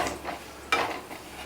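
A spoon stirs a spicy curry with turmeric powder in a pan, giving a brief scraping scrape with a sharp clink midway over a soft sizzle.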